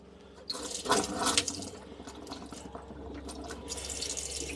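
A hot water tap runs and sputters, water splashing irregularly into a basin with bursts and gurgles from air mixed in the flow, as a pump fails to draw water properly.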